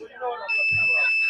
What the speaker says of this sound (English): give a beep sound, which shows that there is an obstacle